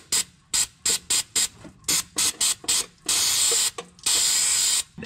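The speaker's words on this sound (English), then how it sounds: "I might spray this up with brake cleaner right now" Brake cleaner hisses from an aerosol can under a car, first as a rapid run of short, sharp spray bursts, then as two longer sustained blasts, all loud and close.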